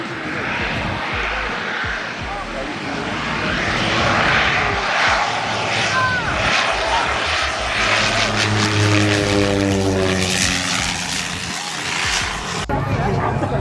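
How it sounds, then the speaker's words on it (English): A small propeller airplane comes in to land over a crowded beach at St Maarten, its engine drone swelling loud and low as it passes close overhead, with wind noise and people talking and exclaiming around it. "There's a plane coming."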